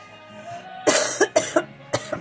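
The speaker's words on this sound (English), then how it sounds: "So I have a dry cough." A person with a tight chest gives several dry coughs, about four or five short sharp hacks in quick succession, close and clear over a quiet background.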